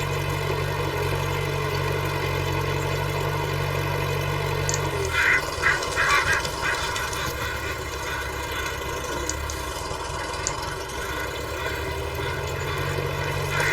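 An old farm tractor engine idles steadily from 1965 wheat-harvest farm footage, a continuous loud drone with many harmonics. A low throb drops away about five seconds in, then the engine runs on evenly.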